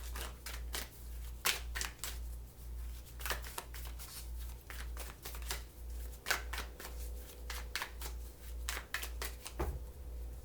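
Tarot cards shuffled by hand in a run of crisp riffling bursts, close and fairly quiet, with a steady low hum underneath.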